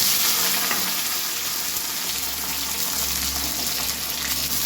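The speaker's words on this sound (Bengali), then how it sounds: "এবার আমি গরম সর্ষের তেলে পেঁয়াজ ফোড়ন দিচ্ছি" Chopped onions fry in hot mustard oil with a loud, steady sizzle that holds without a break from start to finish, crackling close up.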